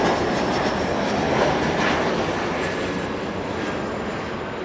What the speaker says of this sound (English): We're gonna get the arrival, Sky West, a little Embraer E175.